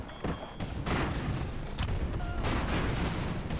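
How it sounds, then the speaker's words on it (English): Aerial charges exploding in the airship combat game Airships: Conquer produce a dense, continuous barrage of loud booms and rumbling blasts with sharp cracks rising out of it. "And there's the torpedoes going in, or the aerial charges"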